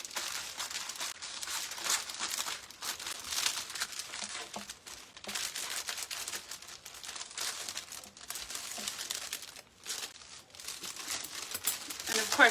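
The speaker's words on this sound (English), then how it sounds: "I'm gonna go ahead and cut my cellophane" Cellophane gets cut with small sewing scissors and crinkled by hand, a continuous bright crackling and rustling close by in uneven bursts with short pauses.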